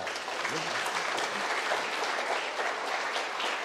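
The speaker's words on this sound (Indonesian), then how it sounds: "Kita berikan apresiasi yang positif dengan tepuk tangan bersama." An audience claps together at a Vesak religious gathering, dense, continuous applause throughout, loud and even, with a voice faintly heard near the start.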